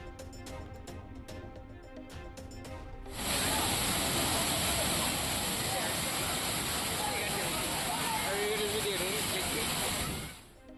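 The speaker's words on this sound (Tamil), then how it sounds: "குமரியில் பெய்த மழையால் திருப்பரப்பு அருவியில் ஆர்ப்பரித்து கொட்டும் தண்ணீர்." Water roaring down Thirparappu waterfall in Kanyakumari after rain: a loud, unbroken rushing hiss that follows a few seconds of music, holds steady and then cuts off near the end.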